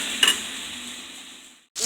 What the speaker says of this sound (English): you just keep basting while it's searing on that side